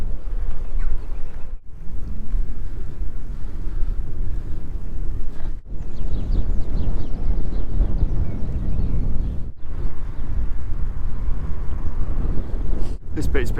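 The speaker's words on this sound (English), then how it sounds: "Yeah, it's really windy up here." Strong wind buffets the microphone while cycling a loaded touring bike from Cambridge toward Xanten, a steady loud low roar and rumble broken by a few brief drops, with no talk over it.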